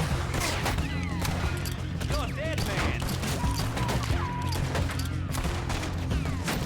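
Gunfire from a gold pistol in Red Dead Redemption 2 during a fight with riders, a steady run of sharp reports mixed with other shots and clatter, close and loud, with talk over it.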